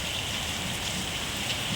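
Heavy downpour of the season's first rain in Sidlaghatta, a dense, steady hiss of drops on surfaces, loud and close, with no voices.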